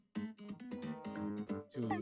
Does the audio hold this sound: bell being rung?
no